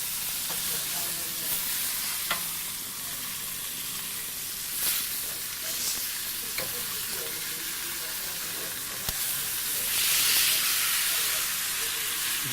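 Pork chops with rendered rind fat fry in a pan on a Weber Spirit II E-310 gas grill, a continuous close hiss and crackle with occasional sharp spits and pops.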